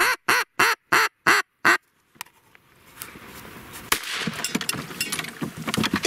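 Ducks quack on a duck hunt in a run of six loud, evenly spaced calls, followed after a short silence by rustling and scattered handling noises from the hunters nearby.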